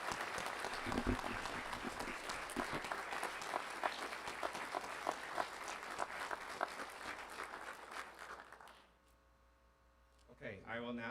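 A large crowd applauds bachelor's degree graduates at a spring graduation ceremony, the clapping steady for about nine seconds before fading into quiet, after which a voice begins speaking.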